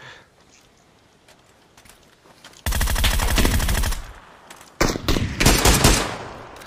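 Gunfire in a shooting video game: a long burst of rapid automatic fire starts suddenly after a quiet stretch, then more loud bursts follow in quick succession, close and harsh.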